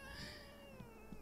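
A cat in The Sims 3 game meows and cries in a thin, drawn-out wavering wail that fades over about a second, heard alone and fairly faint.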